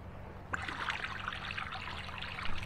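Water trickling in an artesian well, a faint steady splashing flow that starts abruptly and continues quietly.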